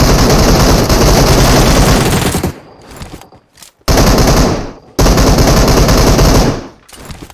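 Sustained automatic gunfire in PUBG Mobile during a squad fight, loud, dense bursts of rapid shots broken by short pauses before firing resumes.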